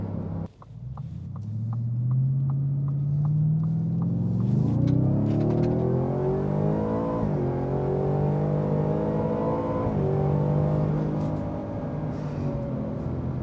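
A 5.2-liter supercharged V8 in a 2023 Ford F-150 Raptor R revs hard and loud, its pitch climbing steadily and then rising again in a second surge, close and sustained with no talking.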